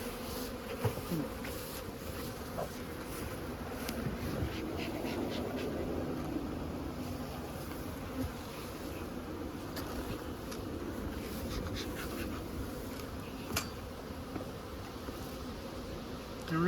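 Honey bees buzzing steadily around beehives outdoors, a dense continuous drone close by with faint knocks and rustles over it.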